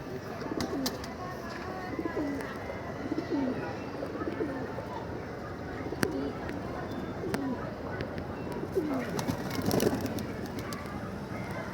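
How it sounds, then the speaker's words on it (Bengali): Pigeons coo repeatedly in soft, throaty bursts while bathing in a shallow water plate on a rooftop, with faint chirps and a steady outdoor background throughout. "পানির প্লেটে নাইমা শরীর টরীর ঝাড়া দেওয়া গোসল টোসল করতেছে"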